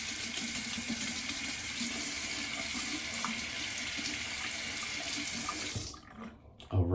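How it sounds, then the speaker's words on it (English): Warm water runs steadily from a bathroom tap over a half razor blade, a continuous close hiss of flowing water that cuts off abruptly near the end. "I'll run that under some warm water."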